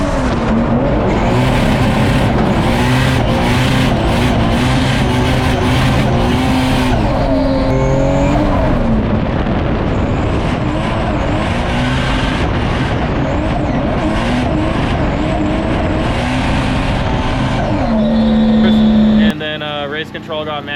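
A drift car at Formula Drift Salt Lake City, Utah, rips through the back section of the course, the engine roaring loud and close with revving swells and long tire squeals throughout, over a constant heavy drone.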